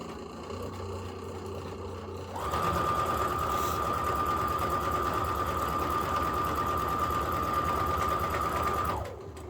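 A sewing machine chain-pieces cotton quilt pieces in one long continuous run, nearby and steady with a droning hum and a fast needle rhythm for about six seconds, then it stops.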